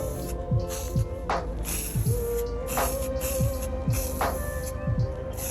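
Rust-Oleum satin bronze spray paint applied to a metal hook: short bursts of aerosol hiss come and go in a loose rhythm, with faint knocks and a soft voice in the quiet background.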